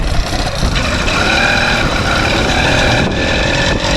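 A Chinese F-80 80cc two-stroke petrol engine mounted on a bicycle runs close and loud under throttle with a harsh, buzzing drone that holds steady. Wind and road noise rumble beneath it.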